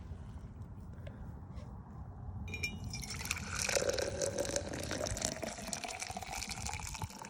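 Liquid pours from a Stanley thermos at an outdoor pellet rocket stove setup, a soft, quiet trickle and fill that grows a little brighter partway through, with no talk.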